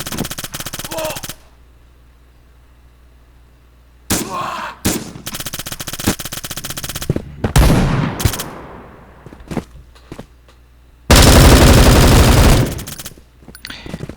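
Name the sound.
gunfire in the video game Bullet Force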